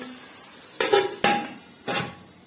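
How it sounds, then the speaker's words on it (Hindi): A lid goes onto a cooking pot of potato-eggplant curry with three close metallic clanks, two quick knocks followed by a softer third, each ringing briefly over a quiet background. "अब इसको हम ढक देते हैं"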